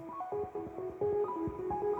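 A slightly detuned, very basic MIDI piano synth plays a short run of plucked notes, each with a sharp attack and quick decay, clear and alone at a modest level.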